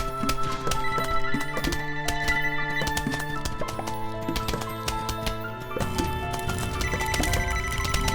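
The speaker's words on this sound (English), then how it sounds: "the phone is already ringing" A phone rings in repeated bursts with a trilling bell tone, heard under the busy music and effects of a Plants Vs. Zombies game, moderately loud throughout.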